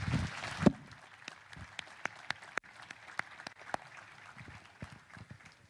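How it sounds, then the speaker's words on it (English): An audience at the Daily Trust Dialogue applauds the NLC president's presentation. A brief burst of clapping is followed by scattered, fading individual claps in a large hall. "the President of the NLC, Mr. Joe Ajero, deserves another round of applause for his presentation"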